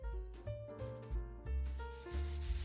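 Sandpaper of 220 grit rubbing over a wooden Peerless mini subwoofer cabinet between sealant coats, a steady scratchy rasp in repeated strokes heard close up over background music.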